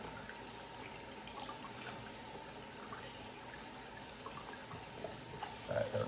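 Tap water runs steadily into a kitchen sink as a piece of stewing pork is rinsed under it, a continuous close gush with faint clinks and shifting splashes near the end.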